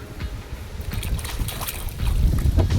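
Gusty wind roars against the microphone in uneven low rumbles, strengthening toward the end, with faint water sounds beneath, at Kuttikkanam in Kerala.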